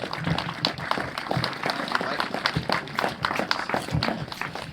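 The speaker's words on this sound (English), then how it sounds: "I'd like to have a big round of applause for Dapper Laughs." A live audience at a Dry January 10K guest-speaker event claps for a comedian. The clapping is uneven and fairly close, with distinct individual hand claps and a bit of crowd noise throughout.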